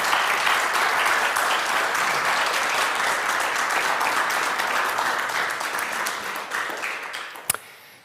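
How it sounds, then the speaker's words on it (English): Audience applause following the announcement of the 2023 Holberg Prize and Nils Klim Prize, a loud, dense and steady round of clapping that gradually fades away over the last seconds. "Please give them a round of applause."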